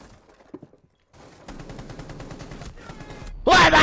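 Rapid gunfire in Rainbow Six Siege rattles in a sustained burst that builds from quieter shots to a loud, harsh volley at the end.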